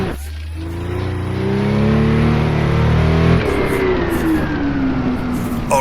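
A USAC sprint car engine screams loudly close by in Assetto Corsa on the Pikes Peak hill climb, revving high and steady, then cutting off sharply before rising again in a climbing whine.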